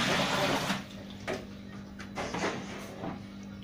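Water pours into the tub of a Sharpgold 5 kg washing machine, a broad splashing rush that starts strong, then eases into softer intermittent gushes over a low steady hum.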